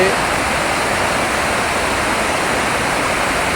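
Water overflowing from the Agnavati dam reservoir near Pachora, a dense, constant roar of rushing water filling the scene, loud and unbroken throughout.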